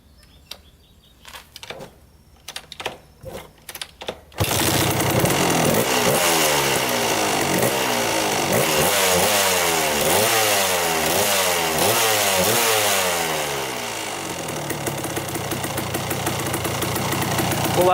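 After a few sharp mechanical clicks and knocks, a dirt bike engine with a freshly cleaned carburetor fires up close by and runs as a loud, raspy buzz, revving repeatedly in rising and falling bursts before settling into a steadier idle.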